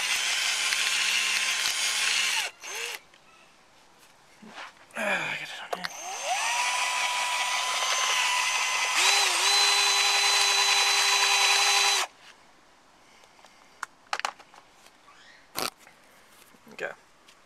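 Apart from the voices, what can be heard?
power drill drilling hole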